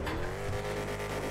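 Remapped car engine in GTA RP, a steady low drone running continuously through the short stretch, with no voices.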